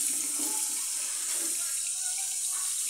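Tap water runs steadily into a bowl in a kitchen sink, filling it to soak vegetables for sanitizing; a continuous broadband hiss of flowing water, fairly close, with no talk.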